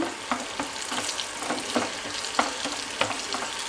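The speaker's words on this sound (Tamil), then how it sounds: "இப்போ முந்திரி வறுத்துக்கலாம்" Cashews fry in ghee with a dense, continuous sizzle and rhythmic stirring scrapes roughly twice a second, close and moderately loud.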